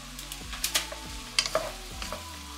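Cooked prawns tossed and stirred in a pan for prawn fried rice, a few soft scrapes and clacks of a spatula over a faint sizzle, no voices.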